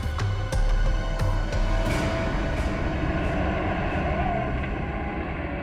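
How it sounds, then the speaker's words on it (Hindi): Heavy vehicle rumbling past in a forest, a loud continuous low roar with rattling and clanking that swells early and slowly recedes, no voices. "ट्रक की आवाज? ट्रक जंगल में?"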